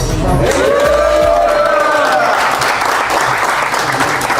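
A crowd applauds steadily with scattered cheers and whistles, loud and continuous throughout.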